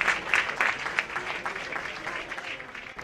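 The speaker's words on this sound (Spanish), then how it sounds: "Llevan una ovación de toda la grada de los anexos." Spectators in the stand at a Real Valladolid Promesas football match give the substituted players an ovation, a brief, even patter of distant clapping from the crowd.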